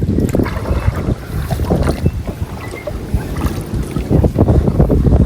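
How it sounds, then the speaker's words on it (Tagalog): Strong wind buffets the microphone in heavy low rumbling gusts, with water sloshing and splashing around a small boat throughout. "Malakas ang hangin."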